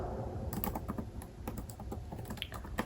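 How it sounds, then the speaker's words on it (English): Steady typing on a computer keyboard while a poem is written, with quick irregular key clicks close by and fairly soft, no voices over it. "so that you can see what I'm typing"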